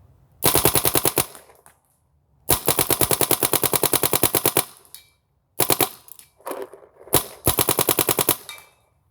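A Bob Long VIS paintball marker fires several rapid bursts of sharp, evenly spaced shots, loud and close, with short silent gaps between strings and no talking.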